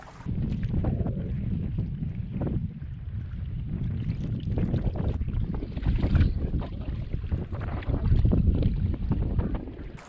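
Canoe paddling across a wilderness lake: continuous watery swishing and gurgling strokes with wind buffeting the microphone, steady and close, no talking.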